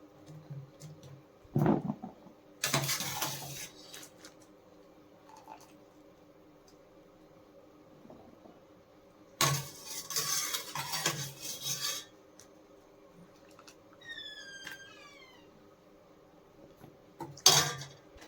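Fried gobi (cauliflower) being moved from a pan onto a plate in a home kitchen, giving several short scraping, rasping clatters of a utensil against cookware, separated by quiet stretches, with a faint bird-like chirp near the end.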